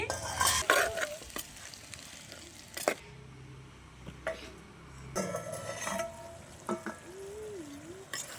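Tomato pieces sizzling in a pot of village-style beef curry while being stirred, with bursts of scraping and clinks of a spoon against the pan between quieter stretches of frying.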